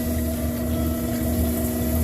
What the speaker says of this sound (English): when I see that hose right there leaks the water